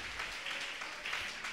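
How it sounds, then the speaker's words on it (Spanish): Church congregation applauding during a sermon, a short, faint and distant wash of clapping with no speech over it. "Dele un aplauso al santo."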